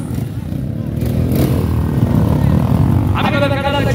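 Motocross motorcycles on a beach track in Marcona rumble and rev steadily nearby, with a voice talking over the engine noise near the end.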